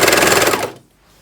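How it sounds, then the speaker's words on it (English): Serger overlock machine stitching a garment together, a loud fast rattling whir up close that runs steadily for a moment, then stops abruptly into quiet. "Now I can start serging it together."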